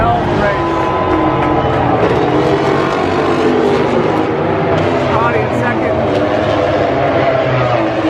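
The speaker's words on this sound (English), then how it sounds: "Alex Rins is going to win from Honda. He's coming right here" A MotoGP racing motorcycle, with a Honda mentioned in the race, roars past on track, a loud continuous engine wail that fills the whole stretch, with crowd and circuit noise underneath and a voice briefly audible.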